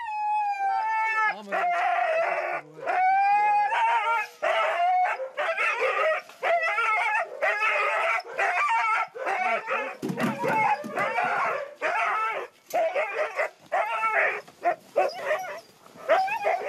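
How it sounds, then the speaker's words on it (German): A team of sled dogs being hitched up in the snow barks, yips, whines and howls continuously and excitedly, a dense chorus of many dogs close by, with a few voices mixed in. "Man kann viele Hunde einspannen und die Post geht wirklich ab jetzt im Schnee."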